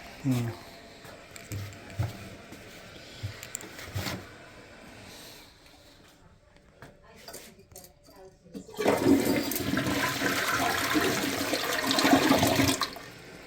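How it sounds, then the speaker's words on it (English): A newly installed toilet flushes toilet paper down, the water rushing loudly in a sustained surge over the last few seconds after quieter bathroom handling, with voices talking earlier. "Alright, guys, we're gonna flush some toilet paper down there."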